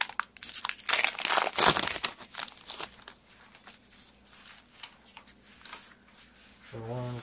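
Pokémon card booster pack torn open and rummaged, with dense crinkling foil and paper rustles loudest in the first two seconds, then softer handling of cards, with faint voices in the background.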